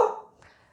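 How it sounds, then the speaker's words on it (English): A single short dog bark, close and fairly loud, cuts off quickly and fades in the room during an indoor session of repotting African violets. "Sorry, dogs are barking."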